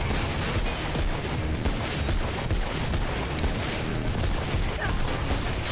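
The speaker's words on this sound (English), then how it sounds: "Where's that machine gun?" Machine gun fire in the video game Mirror's Edge, a sustained rattling fusillade of shots with crashes mixed in, loud and continuous throughout with no speech.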